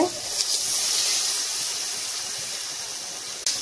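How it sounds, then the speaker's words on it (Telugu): Water is poured into a hot pan, giving a loud, steady hissing rush that holds throughout before cutting off abruptly. "ఇప్పుడు కొన్ని వాటర్ వేసుకోవాలి."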